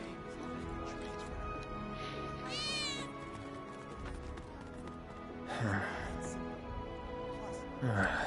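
Cat meows from the Final Fantasy VII Remake video game, a few short rising calls over steady game music and ambient sound, with a quieter cry near the end.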